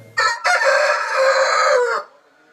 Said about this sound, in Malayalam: ഇതിപ്പോൾ കോഴിയെ കൊണ്ട് അലാറം വെപ്പിച്ച് കൂവിക്കാൻ പറ്റുമോ എന്നാണ് ഉടമയുടെ ചോദ്യം